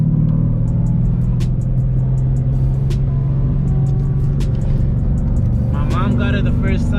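A Ford Mustang 5.0 engine drones steadily while driving along a canyon road, a loud constant low rumble with people talking over it throughout.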